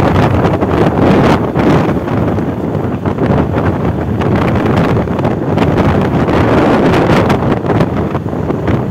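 Loud gusty wind roars and buffets the microphone, a continuous heavy rumble that surges and swells in waves without any talking.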